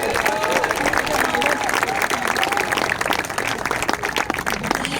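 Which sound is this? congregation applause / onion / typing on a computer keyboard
congregation applause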